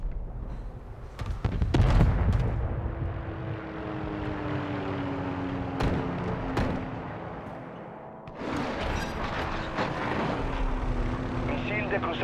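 In Call of Duty Modern Warfare 3, an allied Mosquito aircraft drones overhead with a steady propeller hum amid sharp gunfire cracks, while a game announcer voice speaks over it.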